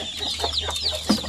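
Chickens cluck softly nearby, a few short clucks over a low steady background hum.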